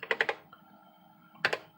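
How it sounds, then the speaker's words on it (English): Close, crisp keystrokes on an Osborne Executive computer keyboard: a quick burst of three or four clacks, a pause, then two more presses, with no talking. "I'm just typing in MBasic and then B for the B drive"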